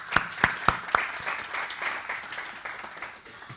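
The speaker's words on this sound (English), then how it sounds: "let's give a round of applause for volunteers" A conference audience applauds the volunteers, a few sharp individual claps at the start swelling into a steady wash of clapping that fades out over a few seconds.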